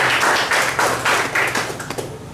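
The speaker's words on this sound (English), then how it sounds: "Give her a big round of applause, please." An audience claps in steady applause after an evaluation session presentation, a dense patter of hands that swells and thins in waves and fades slightly toward the end.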